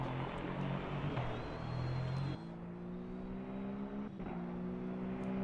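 Race cars on Michelin tires lapping the Nürburgring GP circuit, a steady engine drone with a sharp shift in pitch midway as one car passes, loud and continuous with no talking.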